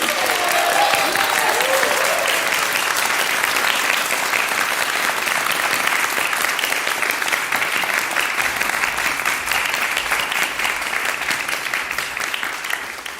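Sustained audience applause at a music department commencement honoring a graduate studies prize winner, dense and steady throughout, with a faint voice early on and slightly tapering near the end.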